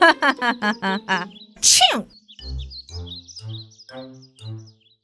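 An animated fairy-tale character sneezes after breathing in sneezing herbs: a quick run of rising voiced 'ah' breaths builds into a sharp, loud burst, followed by softer voiced sounds and faint chirps.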